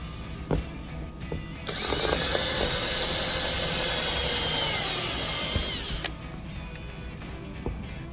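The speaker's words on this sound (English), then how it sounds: "We're gonna go ahead and drill those out" A power drill whines continuously for about four seconds, drilling out plastic rivets on a Dodge Challenger front splitter, loud and close, with scattered clicks and clatter before and after.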